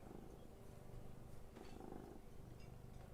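A pet cat purrs softly and steadily, a faint continuous low rumbling close by, with no talking over it.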